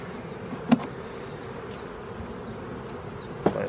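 Honeybees buzzing steadily in an opened beehive during a spring inspection of a weak colony, a continuous moderate hum with two brief sharp knocks.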